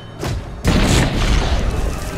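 An enemy tower goes up in a heavy boom in Guardians of Middle-earth, a brief lull then a loud broadband blast whose rumbling roar sustains for over a second.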